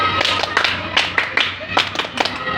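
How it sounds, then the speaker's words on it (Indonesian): A group of students performs a rhythmic spirit clap in a classroom, sharp claps landing in a patterned sequence of quick beats with short pauses, close and fairly loud, with voices mixed in. "Nah, tepuk semangat."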